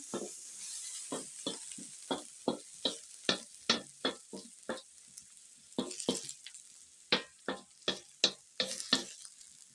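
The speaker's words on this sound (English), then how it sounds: "So you put the onions first." Onions sizzle in a pot over a village cooking fire, while a spoon stirs them in quick rhythmic scraping strokes, many sharp close hits in a regular pattern.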